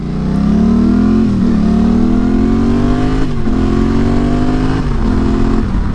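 Dual sport motorcycle riding on a road, engine droning loud and close with steady rising pitch and brief dips as it shifts gears, mixed with rushing wind.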